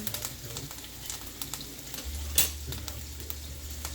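About two tablespoons of butter sizzles in a hot, oiled pan while pork chops are cooking, a moderate spattering hiss with small pops and one sharp clink partway through.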